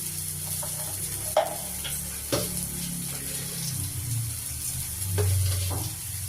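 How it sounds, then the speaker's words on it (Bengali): Grated onion, chopped tomato and ginger-chili paste sauté in a pan with a steady low sizzle, broken by a few sharp spoon scrapes and clinks as the mixture is stirred. "গ্রেট করা পেঁয়াজ, কুচানো টমেটো আর একটু আদা লঙ্কা বাটা, এই দিয়ে আমি এখন কষছি"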